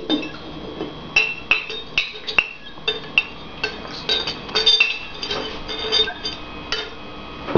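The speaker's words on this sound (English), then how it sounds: "Now stir it. You can pick the jar up if you need to." Alum solution stirred in a glass jar, a spoon striking the glass in a run of sharp, close clinks and taps with short pauses between.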